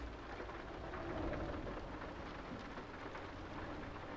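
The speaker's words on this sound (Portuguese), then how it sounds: "Tá sol e tá chovendo" Steady rain falls without a break, a dense, even hiss of drops close by with a low rumbling undertone throughout and no voices.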